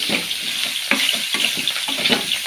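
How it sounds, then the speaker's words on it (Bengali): A pan of food frying with salt and turmeric sizzles steadily, broken by clattering stirring strokes at irregular intervals, close and fairly loud. "নুন আর হলুদ দিয়ে ভালো করে ভাজা ভাজা করি"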